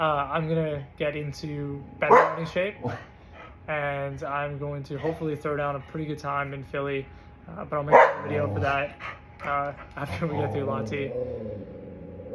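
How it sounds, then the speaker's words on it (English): A dog in full defensive mode barks in short bursts now and then, partly masked as someone talks steadily over it. "That is my dog barking."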